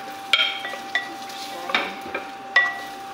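Onions fry in butter in a pan with a soft, steady sizzle, broken by several sharp scraping stirs of a utensil against the pan, close up.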